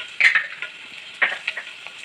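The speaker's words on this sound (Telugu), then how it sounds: "పోపు వేసుకుంటున్నాం, జీలకర్ర ఆవాలు, వెల్లుల్లి, ఎండుమిర్చి కూడా వేస్తున్నాను." Cumin, mustard seeds, garlic and dried red chilies sizzle as they hit hot oil for a ridge gourd curry tempering, giving sharp crackling bursts that flare twice and then settle into spitting pops.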